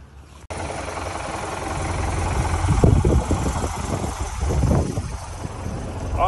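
The running engine of a 1987 car with a 4-litre motor, a close, rough low throb that starts abruptly and holds steady with uneven pulsing, no voices over it.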